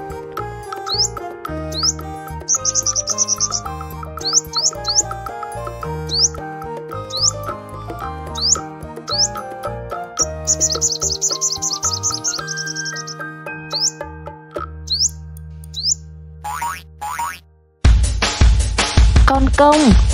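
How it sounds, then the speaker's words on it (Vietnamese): A sunbird calls in repeated short, high chirps and quick trills over steady background music, with a harsh burst of noise near the end. "Chim hút mật."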